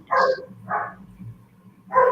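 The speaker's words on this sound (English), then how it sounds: "You hear my dogs in the background?" Pet dogs bark in the background of a home, giving three separate bark bursts at irregular intervals, moderately loud and with no talking over them.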